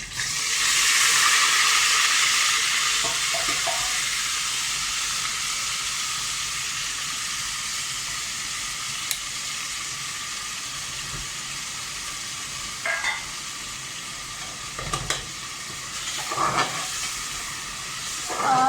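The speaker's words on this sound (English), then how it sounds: "Now I am going to add this pisi hui pyaz, ginger and garlic paste along with some whole spices." Onion, ginger and garlic paste with whole spices fries in a pan for a home-style chicken pulao, a steady loud sizzle and hiss throughout, with occasional stirring scrapes and no talking.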